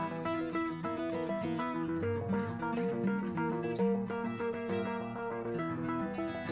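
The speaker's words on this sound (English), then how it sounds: "let's hear what that Rhodes and that acoustic sound like together" Mellow Rhodes electric piano chords blend with plucked acoustic guitar in a gentle, steady groove, played softly without any voices.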